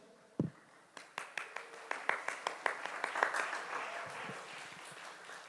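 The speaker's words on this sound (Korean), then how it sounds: "박수 치는 것도 가르쳐 드릴게요." A youth church service group claps in a steady rhythm, about a dozen crisp claps picking up, then fading into scattered applause, fairly close.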